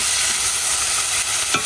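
Boiled Malabar spinach hitting hot oil for tempering gives a dense, steady sizzle and hiss, with one soft utensil scrape near the end.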